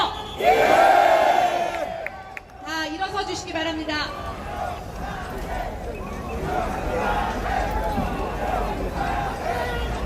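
A rally crowd roars and shouts in unison, loud near chanting swelling early then settling into a sustained mass of voices and chatter, with an amplified speaker's voice heard over it.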